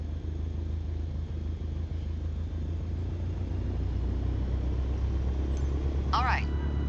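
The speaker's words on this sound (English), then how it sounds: "Now, gently increase throttle to get the aircraft moving." Simulated aircraft engine in Microsoft Flight Simulator 2020 throttling up for taxi, a steady loud low drone that holds throughout with a brief higher chirp near the end.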